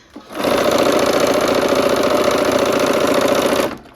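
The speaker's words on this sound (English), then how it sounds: "We're at the machine. Okay, and sewing those blocks to the ends." Sewing machine joining quilt blocks to the ends of a strip set, one loud, steady run of rapid stitching that starts abruptly, holds for about three seconds and stops cleanly.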